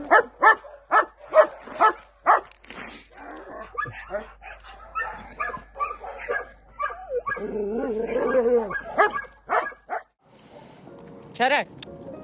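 Dogs bark in a quick series of sharp, close barks, with yips and whimpers mixed in, while a person talks among and after them.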